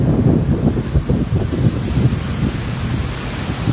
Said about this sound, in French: Vous voyez comment les vagues montent.